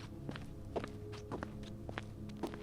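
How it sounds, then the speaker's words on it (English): Footsteps in an audio story, a steady run of about five or six distinct steps approaching at moderate distance over a low background hum, with no voices. "Then, behind me, I heard footsteps."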